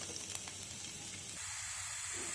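Chopped onions hit four spoons of hot oil in a pan for dosakaya curry, giving a steady, close hiss of sizzling that carries evenly through without talk.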